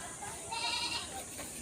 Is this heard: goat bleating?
yes